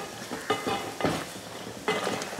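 Tomato curry paste sizzling in hot oil while being stirred, with a few scraping strokes of a spoon against the pan and a steady frying hiss underneath.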